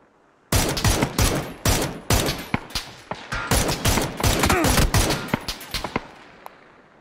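Rapid bursts of gunfire in a PUBG match, near and loud, with dense clustered shots that taper into scattered single cracks toward the end.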